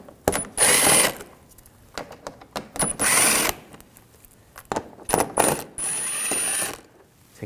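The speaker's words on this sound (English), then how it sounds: "I'm using a 8mm socket. We're going to take these screws out." A ratchet with an 8mm socket loosens bumper screws on a 2007-2013 BMW 328i, with several bursts of quick clicking separated by pauses and light handling noise close by.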